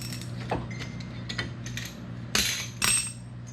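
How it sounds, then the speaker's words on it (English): Brake caliper piston on a 2004 SRT-4 being compressed back into its cylinder, giving a few short metallic clicks and ratcheting mechanical clunks over a steady low hum, close and moderately loud. "we'll be able to compress the cylinder, push our brake fluid up"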